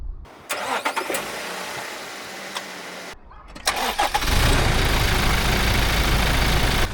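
A Toyota Land Cruiser 70 engine cranks briefly, then catches and settles into a loud, steady idle close by, after an earlier burst of mechanical noise and a short pause.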